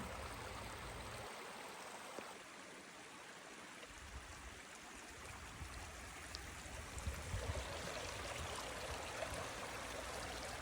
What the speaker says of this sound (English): just admire the sounds of the creek